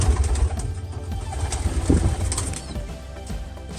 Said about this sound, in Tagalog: Ayun mga kalapatids.